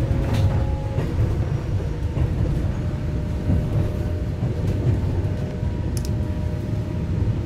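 A ten-car Taiwan EMU900 electric multiple unit running on the North-link line between Heren and Xincheng, heard as a steady, loud low rumble and rattle of wheels and carriage throughout, with faint clicks and no talking.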